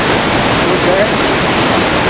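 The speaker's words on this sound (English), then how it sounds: "The river, why is it in the rush?" A river rushes in Yosemite, its loud, steady broadband roar of moving water filling the whole stretch without pause.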